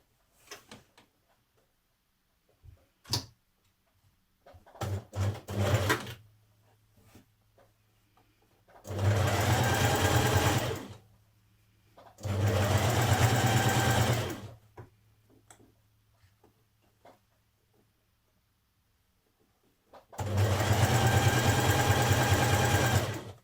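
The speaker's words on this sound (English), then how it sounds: "you're going to want to pull on it gently while you're stitching that in place." A sewing machine runs a stretch stitch along the seam of a casual dress in three clear bursts of a few seconds each, separated by pauses with small clicks and handling sounds; close and fairly loud, with no talking.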